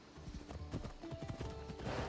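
Hooves clip-clop at a riding pace in Assassin's Creed Odyssey, a quick uneven patter of close hoofbeats over a low background rumble.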